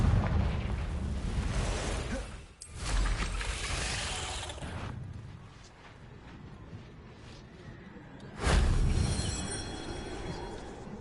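A loud fiery blast from the Confringo explosive spell in the video game Hogwarts Legacy, rumbling and booming amid continuous dense combat noise, with another heavy burst near the end.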